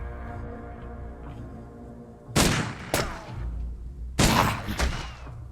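Gunfire in the video game Urban Strife: two sharp, loud bursts of shots cut through a low in-game ambient hum, each followed by a second crack, with no talking.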